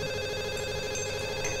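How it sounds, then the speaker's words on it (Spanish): A home telephone rings in a Colombian drama scene, a steady electronic tone held against a busy, humming room background at moderate, slightly distant loudness. "Coja, mijita, el teléfono."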